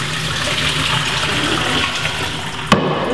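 Water from a pot of cooked pasta shells pours steadily into a strainer in a kitchen, a continuous close rushing splash that ends in a short sharp clunk.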